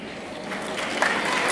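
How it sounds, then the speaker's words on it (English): Applause at a school awards ceremony, a steady wash of clapping from a crowd that stays fairly even and grows slightly fuller over a moment or two. "A round of applause."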